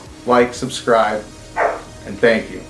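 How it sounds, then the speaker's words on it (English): A pet dog named Beans barks in short repeated bursts, about five sharp woofs spaced unevenly, heard close while someone speaks over them. "that's my dog, Beans, in the background"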